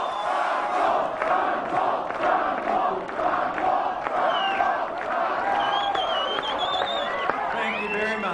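A packed crowd at a Ron Paul rally in Hudsonville, Michigan, roars and cheers in a dense, steady wash of voices with whistles rising above it throughout.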